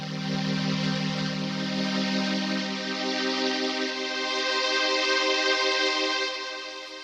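Old analog string machine chord with the signal delayed and panned to both sides, giving a wide, rich sustained string-ensemble pad that swells gently and fades at the end, heard alone.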